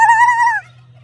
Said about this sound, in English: That's the turkeys.